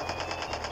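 Rapid automatic gunfire from the video game Call of Duty, a steady close burst of evenly spaced shots that runs through the whole moment with no talking.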